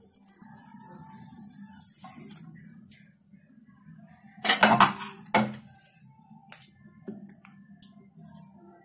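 Milk powder burfi mixture scraped from a pan onto a ghee-greased plate, heard as a cluster of close metallic scrapes and clinks midway, with quieter knocks around it.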